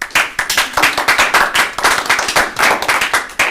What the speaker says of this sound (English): Technically, the applause would have come before that.